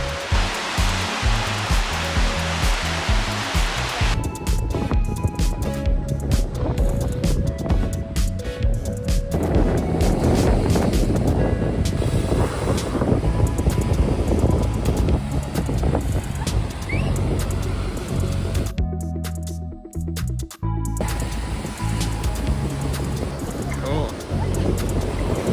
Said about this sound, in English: Schoodic Point. It is aggressively windy.